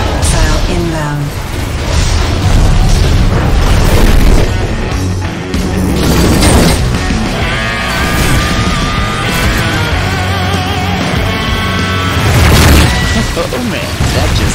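A missile strike in a game, with loud booming blasts and crashing impacts that hold a dense, heavy roar across the whole stretch, surging again near the end with no pause between explosions.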